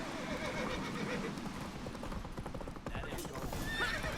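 Roach the horse in The Witcher 3 trots with steady hoofbeats throughout, and a high, brief whinny rises near the end. It all sits under game noise and voices talking.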